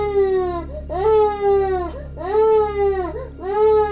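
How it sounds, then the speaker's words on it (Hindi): A child cries in a horror cartoon in repeated wailing sobs, loud and close, with short breaths between the cries over a low steady hum. "किसी बच्चे की रोने की आवाज़ सुनाई दी"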